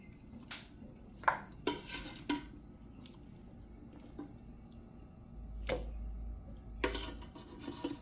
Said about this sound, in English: So I'm going to add my pigtail back to a pot.